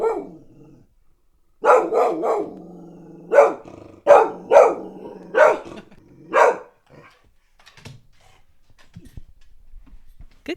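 A dog barking at the mailman from indoors: a close, loud series of about nine sharp barks in quick bursts, with whiny whimpering notes between them, then quiet with faint rustling.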